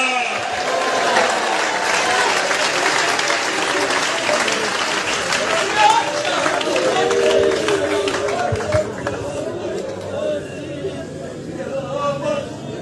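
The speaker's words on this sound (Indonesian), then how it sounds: "Tepuk tangan lagi kepada Tuhan Yesus. Tepuk tangan yang keras." A church congregation at a revival service claps hard and continuously, loud applause mixed with scattered crowd voices and shouts that thin out toward the end.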